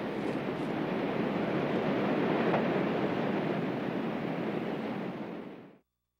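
A river rapid at the end of Beachy Lake roars as a constant, dense rush of water, loud and unbroken until it cuts off abruptly near the end.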